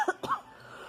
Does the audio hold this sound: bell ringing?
no